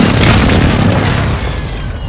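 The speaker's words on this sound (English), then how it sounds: "Hostiles launched a cruise missile." A cruise missile explosion in Call of Duty: Modern Warfare, a loud, deep, rumbling blast that fills the moment and slowly fades.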